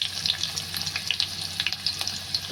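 Garlic and a bay leaf sizzle in hot oil for a mutton dish, a close, steady crackling fry with bright popping spatters throughout.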